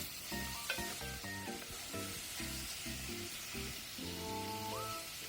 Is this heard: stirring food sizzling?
yes